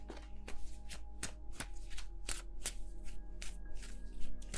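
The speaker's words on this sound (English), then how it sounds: "Can I please shuffle my cards?" Tarot cards shuffled by hand, a quick run of crisp riffling snaps and soft slaps in an uneven rhythm, close and fairly quiet in an otherwise still room.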